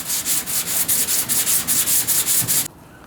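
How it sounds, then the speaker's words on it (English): Rhythmic back-and-forth sanding of body filler on a Civic hatchback panel, about fourteen even rasping strokes at close range, loud and steady, stopping abruptly near the end. "we got all of this sanded down"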